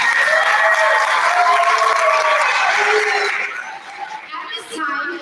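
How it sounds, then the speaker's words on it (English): A luncheon audience breaks into loud, dense applause at a Thanksgiving event, the clapping thinning out near the end with background chatter and voices showing through. "Big round of applause."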